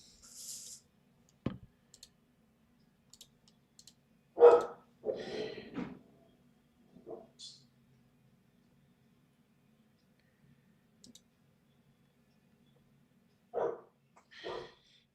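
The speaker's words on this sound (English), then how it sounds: "I've just got to get my dog inside. She's barking." A pet dog barking indoors or just outside, a few short sharp barks in separated bursts with quiet gaps and faint clicks between, fairly distant and soft, no talking.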